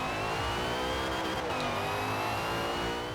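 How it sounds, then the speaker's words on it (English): A racing car in a racing video game over-revs in first gear, its engine holding a loud, steady high-pitched whine throughout. "My engine's squealing like a little bitch."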